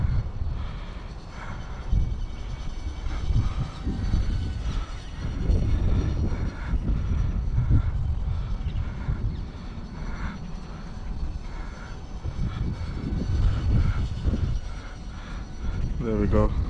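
A UMX A10 Thunderbolt RC airplane flies overhead, its small electric motor buzzing and whining as it rises and falls in loudness with distance, while someone talks throughout.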